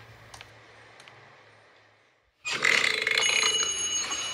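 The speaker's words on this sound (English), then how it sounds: "My burp is louder." After a quiet stretch with a couple of soft clicks, a loud, rough burp bursts in and runs for about two seconds, close and dominant, with no talking over it.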